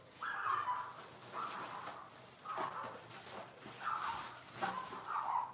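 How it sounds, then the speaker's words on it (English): Several dogs fighting outdoors, heard from inside as distant, muffled bursts of barking and yipping that recur in rough, irregular waves. "Dogs are outside fighting."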